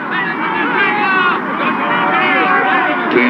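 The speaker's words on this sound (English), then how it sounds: "Listen to them cheer." Cartoon crowd cheering at a ship arriving in port, a continuous dense roar of many voices holding steady and loud throughout.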